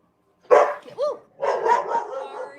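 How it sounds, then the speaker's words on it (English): A dog barks several times in quick succession, fairly close and loud, with short gaps between the yaps. "no, that's somebody else's dog."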